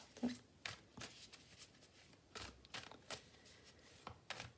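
Oracle cards are shuffled by hand in a series of quick, crisp riffles and slides, close and fairly quiet, repeating irregularly for several seconds.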